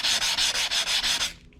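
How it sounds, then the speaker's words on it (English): A car headlight lens is sanded with 600 grit sandpaper in about six quick, close, even back-and-forth strokes, a bright rasping scrub that stops abruptly. "start the boring process of sanding. So what I'm gonna do is I'm gonna hit this with 600"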